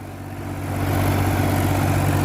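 A Mahindra 265 tractor engine labours steadily while pulling a 7-foot rotavator, a close, loud low diesel drone with a strong fundamental hum that builds slightly in the first second, then holds even with no talk.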